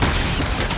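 Enemy gunfire in the video game Resident Evil 6, a loud, dense burst of continuous shots filling the whole moment without a break.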